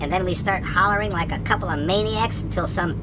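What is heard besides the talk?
No distinct noise like a dog, phone or traffic.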